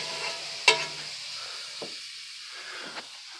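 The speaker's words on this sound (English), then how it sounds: "And you just melt it. Melt the butter." Butter melting in a pan, a soft steady hiss with a sharp clink early on and faint scraping touches, close and quiet with no talking.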